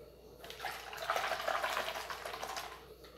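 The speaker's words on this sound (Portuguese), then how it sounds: "Vamos deixar essa água cair aqui dentro" Water pours steadily into a container, a continuous rushing splash that swells and then eases, close up with no voices.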